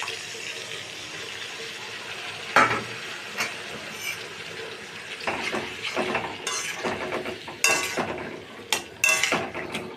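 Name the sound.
ginger-tomato paste added to a pan, stirring and sizzling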